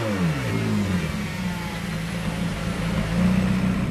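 A McLaren 675LT engine revs high to just over 5,000 RPM and then falls back, its pitch sliding down before settling into a loud, throaty idle nearby.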